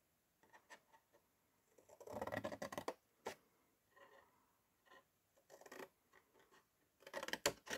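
Scissors snip through material while a desk organizer is being assembled, a run of short close cuts in separate bursts with quiet gaps between them and no talking.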